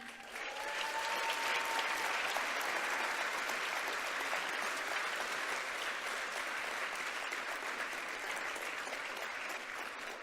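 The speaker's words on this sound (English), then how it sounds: "ask all of you to clap for the ATM team" Sustained applause from a large audience in a London hall at the International Somali Awards, clapping for the ATM team; a dense, steady wash of hands that holds evenly loud for the whole stretch with no voices above it.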